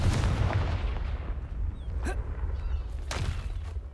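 A Confringo blasting spell explodes in Hogwarts Legacy as a loud, rumbling boom that fills the whole stretch, with a whooshing flare and a second burst near the end.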